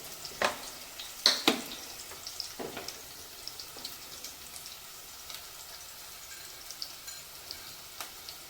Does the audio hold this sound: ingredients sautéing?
yes